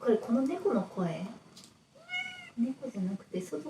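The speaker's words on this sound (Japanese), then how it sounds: "これこの猫の声" A clear, drawn-out cat meow rises and falls between stretches of nearby talking.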